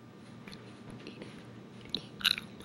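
Someone bites into a Dibs ice cream snack, with quiet chewing followed by a brief, sharper crunchy bite near the end, heard close up and without speech.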